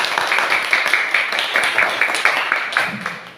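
Students clap in an elementary school classroom in Indonesia, a rhythmic run of fairly close claps in a patterned beat that carries on for a few seconds, with no talk over it.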